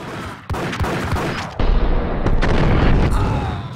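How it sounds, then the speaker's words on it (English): Shotgun blasts ring out in the video game Max Payne, set in a hotel: two loud, sharp booms a second apart, followed by a dense rumble of continuing gunfire and impacts. "Shotgun blast to the face, and now you die!"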